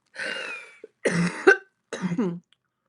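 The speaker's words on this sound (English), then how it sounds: "my cough is back with the winter that is outside in New York" A woman coughing in New York in winter: three separate raspy coughing bursts, close and fairly loud, with short pauses between them.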